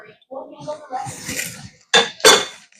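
Vegetables dropped into a cooking pot for leftover dumpling soup: a voice talks, then two sharp clattering knocks of metal and pot follow close and loud near the end.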